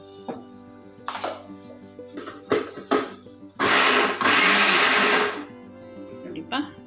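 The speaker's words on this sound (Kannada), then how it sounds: "ಗ್ರೈಂಡರ್ ಮಾಡ್ಕೊತೀನಿ." A kitchen mixer grinder whirs loudly for about two seconds as it grinds toor dal and rice with a little water for a bottle gourd buttermilk sambar, with voices talking before and after the burst.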